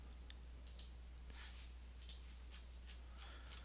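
Several soft computer mouse clicks come in irregular, brief bursts over a faint, steady background hum in a quiet room.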